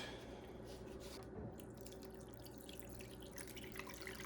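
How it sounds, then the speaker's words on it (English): Milk poured from a gallon jug over raw pheasant meat to submerge it, a faint soft trickle and splash heard close up and alone, with no speech. "So I'm going to cover this with milk."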